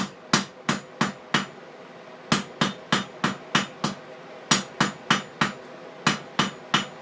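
Hot iron nail being hammered on an anvil during hand forging of a square nail: about twenty sharp metallic ringing blows in quick bursts of four to six, loud and close, with no talking.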